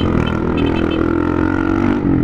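A vehicle with a newly fitted loud exhaust revs hard and close, making a loud, rough, continuous engine roar.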